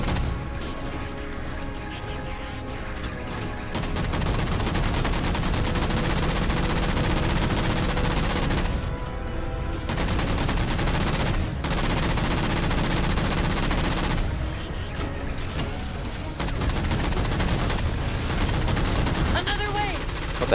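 Halo 4 gunfire rattles in sustained automatic bursts, loud and dense with brief gaps between volleys, while a player talks over the shooting.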